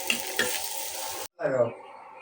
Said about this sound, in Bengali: পাউরুটিটা ডিম দা ভাইজা দিতে বলছে ডিম দা খাবে তাই দেওয়ার জন্য ভাইজা দিতেছে